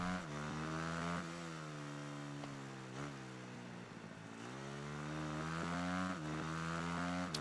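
A supermoto motorcycle engine in the racing video game Ride 3 revs loudly and continuously, its buzzing pitch climbing and dropping through repeated gear shifts and throttle changes, close and alone.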